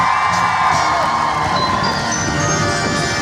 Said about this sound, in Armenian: Նատ բարձր ծափարին Տաթևի։